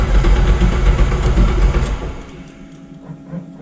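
A Chevrolet Opala six-cylinder turbo engine catches and runs with a loud, close, low rumble, then drops off after about two seconds to a quieter, uneven idle.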